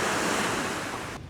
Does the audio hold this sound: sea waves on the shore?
yes